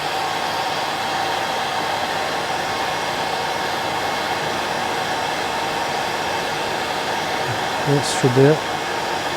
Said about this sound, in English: if you give a wee blast with the hairdryer